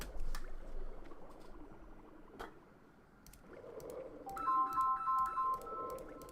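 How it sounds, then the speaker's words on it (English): A phone ringtone chimes in a short repeating melodic pattern in the latter half, fairly clear above quiet room noise and soft clicks. "Sorry, that's my phone."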